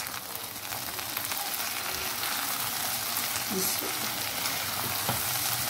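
Ground spices and turmeric fry with okra in a hot pan, giving a steady, dense sizzle with occasional stirring.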